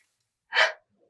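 Hourglass Soft Focus Setting Spray, a squeeze-pump setting spray, lets out a single short, close hiss of mist in otherwise quiet surroundings.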